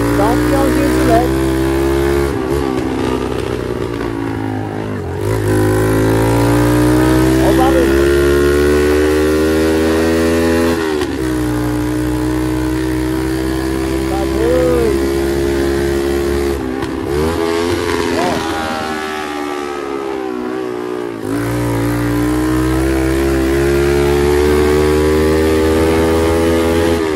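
A Mobylette moped running with only a bare exhaust pipe revs hard, a loud, raspy buzzing drone that climbs and falls in several long pulls, with someone talking in the middle of it.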